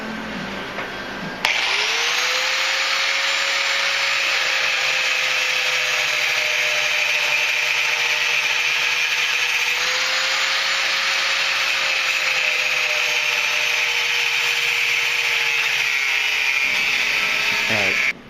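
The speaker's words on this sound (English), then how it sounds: "I'm going to use a grinder because I have it." An angle grinder cuts out the profile of a large Bowie knife, a loud steady high whine that starts abruptly and runs continuously for many seconds, close up with no talking.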